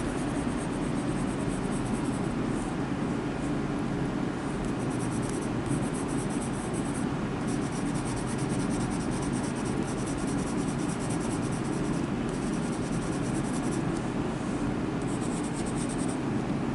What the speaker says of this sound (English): And this is a pale yellow Pablo pencil.